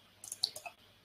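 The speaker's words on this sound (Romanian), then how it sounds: "Dăm dublu click." Computer mouse double click: a few quick, faint, sharp clicks in close succession against a quiet background.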